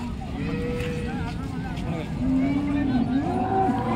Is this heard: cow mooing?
yes